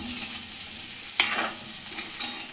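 Aluvadi (colocasia leaf rolls) being gently turned in a frying pan, a soft scrape at the turn rising over a steady low sizzle, with a few lighter stirs afterward and no voices.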